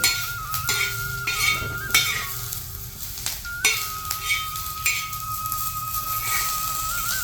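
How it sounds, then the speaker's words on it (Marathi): Chopped onion frying in a pan is stirred with a metal utensil, giving a continuous close sizzle with repeated scraping strokes and light clinks against the pan, and no voices. "आता कांदा भाजलाय आपला हे काढून घ्यायचा"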